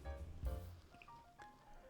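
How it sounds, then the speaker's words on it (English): Old Forester Bootleg 1915 bourbon poured generously into a tasting glass: a brief, quiet liquid splash and a few soft drips in a still room. "That is a hefty pour."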